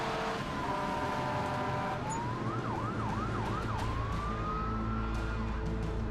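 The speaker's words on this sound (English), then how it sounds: "Emergency vehicles are responding." Emergency vehicle sirens respond to the crashed Asiana 214 airliner, a loud siren that wails, shifts to rapid yelping sweeps and then wails again, all over a constant engine rumble.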